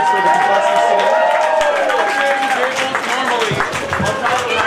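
Crowd at a comic convention cosplay contest applauds, a dense wash of clapping and cheering heard up close alongside talking voices.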